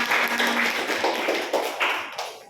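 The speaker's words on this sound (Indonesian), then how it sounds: "Terima kasih, tepuk tangan untuk kita semua." Hands clap together in a classroom, a short burst of brisk, fairly even claps from a group that keeps a loose rhythm for a couple of seconds before thinning out.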